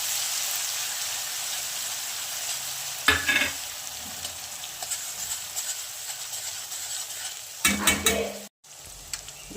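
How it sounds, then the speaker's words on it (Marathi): Black masala is stirred and fried in oil with a constant soft sizzle, broken by two bursts of spoon scraping and clatter against the pot, close by and without talk. "तेल सुटेपर्यंत परतून घ्यायचं"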